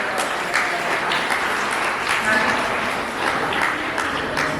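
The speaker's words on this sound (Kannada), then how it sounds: "ಜೋರಾದ ಚಪ್ಪಾಳೆ." Loud, sustained applause from an audience at a cultural programme, a dense wash of many hands clapping that holds steady for several seconds with slight swells.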